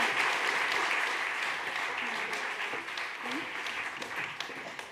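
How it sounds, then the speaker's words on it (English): An audience at a startup demo day event claps in a dense, sustained round of applause that carries on steadily throughout and tapers slightly at the end. "Big round of applause."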